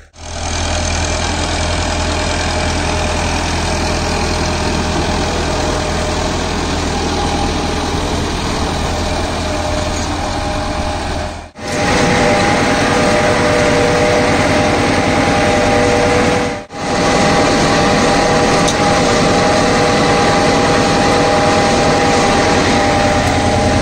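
A Farmtrac 6065 Supermaxx 65 hp 4WD tractor engine runs loud and steady throughout while working with a cultivator, with two brief dips in the drone. No one speaks.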